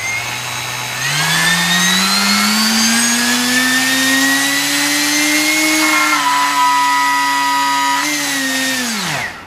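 A 2822 brushless motor with an HQ 8x4.5 propeller whines as it spins up, its pitch rising steadily and holding, then stuttering as it loses sync before winding down, loud and close.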